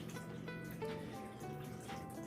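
Liquid ingredient poured into a mixing bowl while preparing fried green tomatoes, a soft trickling, gurgling pour with faint rising tonal ringing, quiet and close.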